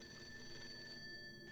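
An old telephone rings in the haunted house of Project Zero: Maiden of Black Water, a steady electronic bell tone alone with no voices, cutting off abruptly at the end.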